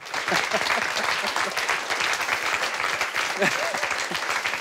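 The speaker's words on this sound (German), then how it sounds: "Applaus im Tagesschau-Studio" Sustained applause fills the Tagesschau news studio, dense steady clapping from a group holding at an even level throughout, with a few faint voices mixed in beneath it.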